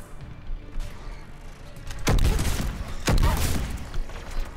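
Sniper rifle shots in Mass Effect 3 during the Geth Server mission: two heavy, booming reports about a second apart ring out over a rumbling battle backdrop.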